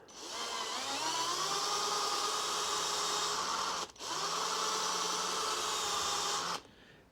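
A power drill boring a guide hole for an M4 bolt while fitting a rally tower on a Yamaha Tenere 700, a loud whine that rises as it spins up, a brief dip midway, then a steady run until it stops, close up with no talk.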